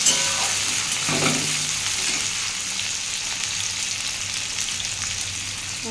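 Potato, onion and tomato fry in a pan with a steady, moderately loud sizzle, an early spatter and a brief stir near the start, then an even continuous hiss.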